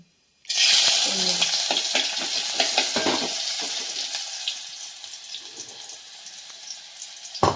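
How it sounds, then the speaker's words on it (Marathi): Onion and crushed garlic hit hot oil with a sudden loud sizzle that stays bright and hissing, crackling close by and easing slightly over several seconds. "तेलाला आता तापायला देऊया हे काय आहे थोडस कांदा आणि ठेचलेली लसूण"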